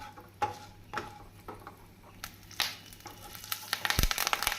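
Curry leaves hit hot oil with chana dal and cashews for coconut rice, giving a crackling sizzle with sharp pops and a few clinks of a spoon stirring the pan.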